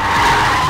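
Tires squeal as an Audi A6 35 TFSI sedan takes a curve on a test drive, a loud continuous close-up screech that holds steady through the brief moment.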